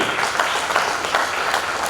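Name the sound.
audience applause at a poetry gathering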